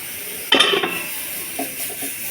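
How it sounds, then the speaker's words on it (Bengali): Chicken is stirred in a cooking pot, one sharp scraping clank of a spoon against metal followed by softer scrapes and a low sizzle, close and brief. "আর একটু হবে চিকেনটা, নাড়াচাড়া করে দিই।"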